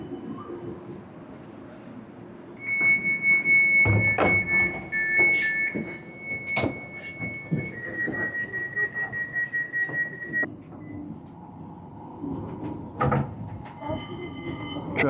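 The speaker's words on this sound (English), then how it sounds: "And here comes our tram." A tram pulls in and rolls along the rails nearby, a loud rumble with a long high steady squeal and clanks. The rumble eases into idling and there are door sounds, with people talking over it.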